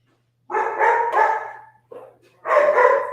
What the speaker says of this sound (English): 4 dogs make a heck of a lot more noise than just 4 times 1 dog.